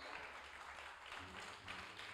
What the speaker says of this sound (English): give the Lord a good hand clap